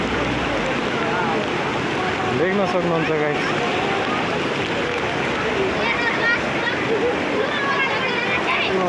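Floodwater rushing loudly through the Khahare stream in Boudha, a steady broad roar with wind buffeting the microphone while people talk over it.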